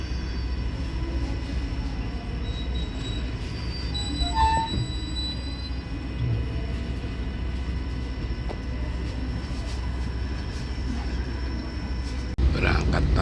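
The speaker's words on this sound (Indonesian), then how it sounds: "ini adalah kereta api Mutiara Timur, relasi Pasar Turi Banyuwangi" A Mutiara Timur passenger train on the Pasar Turi–Banyuwangi route rolls along the rails with a steady low rumble and rhythmic wheel noise, brief high squeals and tones rising over the continuous drone.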